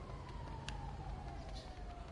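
In the video game GTA 5, a faint ambulance siren holds a steady, slightly falling wail in the background amid low game ambience.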